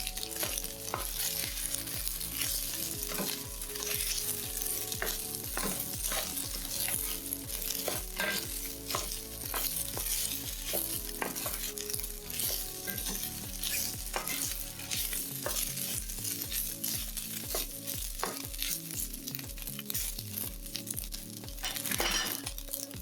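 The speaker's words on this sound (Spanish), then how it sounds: "Le echamos el tocino para que también se fríe un poco. Lo movemos." Bacon sizzles and fries in a pot while being stirred, with a steady close crackle and repeated scraping and clinking of the utensil throughout.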